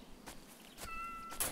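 In the Animal Shelter video game, a cat gives a single short, fairly soft meow against quiet background noise.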